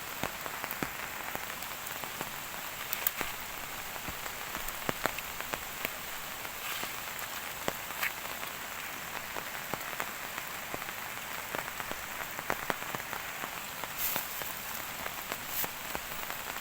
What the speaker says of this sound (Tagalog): Makakapag-video man tayo kahit maulan kasi nakadirekta yung payong sa video sa cellphone.